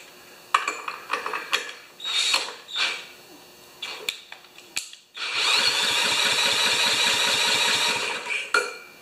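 Someone yanks the recoil starter of a 196cc earth compactor engine several times with ratcheting pulls before it catches and runs at a loud, steady, pulsing chug for a few seconds, close by.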